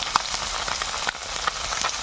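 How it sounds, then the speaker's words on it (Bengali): Native koi fish, climbing perch, frying in a pan for a village-style curry with spinach and potato, giving a steady close sizzle with a few brief sharp pops and crackles and no talk. "দেখতে পাচ্ছেন কই মাছ, দেশি কই মাছ ভাজা হচ্ছে"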